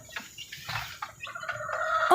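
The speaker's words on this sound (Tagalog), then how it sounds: "Yan nga pala yung ating inahin na nangingitlog dito." A laying hen clucks in short, close bursts at a backyard poultry nest where a chicken is sitting on eggs, the calls growing louder toward the end.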